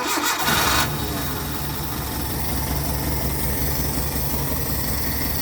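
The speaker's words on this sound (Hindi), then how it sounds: "गाड़ी स्टार्ट करें जी" Toyota car engine with a misfire cranking briefly and catching, then settling into a loud, close, uneven idle that continues steadily to the end.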